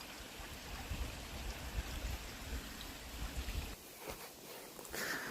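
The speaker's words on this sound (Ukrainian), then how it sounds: "потічок, струмочок." A small forest stream trickles and burbles steadily in an Irish woodland, a close, continuous wash of water that dips briefly quieter near the end.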